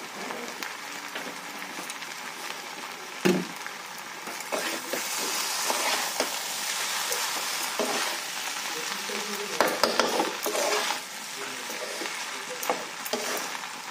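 Food frying in a pan with soy sauce added, steadily sizzling while a utensil stirs and scrapes it, with a few sharper metallic clinks and knocks, close and continuous.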